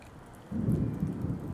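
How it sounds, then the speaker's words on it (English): Thunder rolls in during outdoor rain, a sudden low rumble that swells and lingers over a steady hiss of rainfall, moderately near with no talk. "Y'all hear that thunder?"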